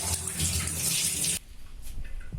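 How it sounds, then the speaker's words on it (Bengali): A tap runs hard as duck meat is washed under it in a tub, giving a loud broadband gush for over a second before the flow drops to quieter splashing and trickling. "এখন ট্যাপ ছেড়ে দিয়ে এখন একটি ট্যাবের সাহায্যে হাঁসগুলো ধুয়ে ভালোভাবে পরিষ্কার করে নিব।"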